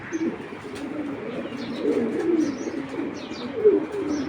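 A silver pigeon pair coos in soft, repeated throaty burbles close by, with a few faint higher chirps scattered between the calls.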